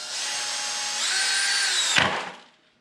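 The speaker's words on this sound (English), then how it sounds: "we're going to drill a hole right here in the bottom of this sucker" Power drill boring a hole into the underside of a skull, a steady close whine for about two seconds that rises in pitch midway, then cuts out abruptly and winds down to silence.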